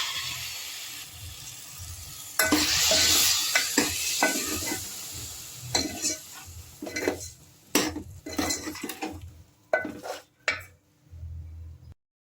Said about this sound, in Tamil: இப்போ அடுத்து நம்ம அரைச்சி வச்சுருந்த தக்காளி அதையும் சேர்த்துடலாம்